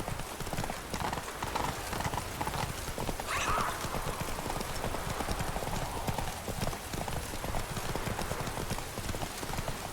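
A horse in The Witcher 3 gallops with a steady, fast clip-clop of hooves throughout, accompanied by a brief whinny early on over constant ambient game sound.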